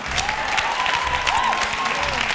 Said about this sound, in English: a round of applause for our debaters.